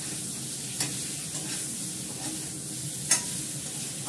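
Leafy greens (shak) fry in a little oil, producing a steady hissing sizzle close up, with a few faint stirring clicks and one sharper tap near the end, no talking.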